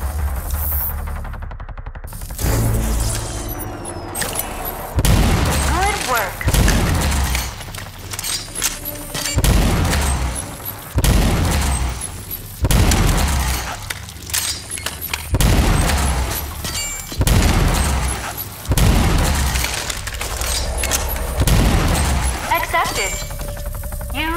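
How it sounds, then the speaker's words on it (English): The charged cannon weapon in Rage 2 fires a steady series of loud, heavy booming shots roughly every two to three seconds. Game effects ring around the shots. "A powerful weapon capable of charging a shot that can penetrate several enemies in a single trajectory."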